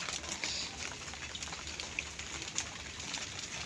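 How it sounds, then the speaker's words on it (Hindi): Rain falling late at night, a steady even hiss with soft scattered drop ticks, moderately distant and continuous throughout, no voices. "रात के 1 बजे की बारिश हो रही है।"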